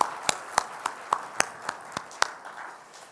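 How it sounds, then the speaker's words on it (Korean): Scattered, sparse hand claps from a church congregation, about a dozen separate sharp claps spread unevenly, fairly quiet with a soft room background. "주님께 영광의 박수 올려드릴까요?"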